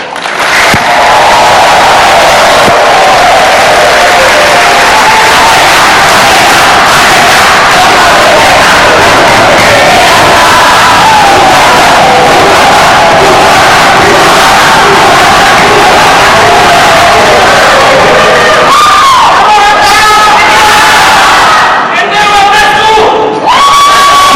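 A large audience at a 2014 Indonesian vice-presidential debate bursts into loud, sustained applause and cheering that fills the hall for over twenty seconds, with a voice coming through near the end.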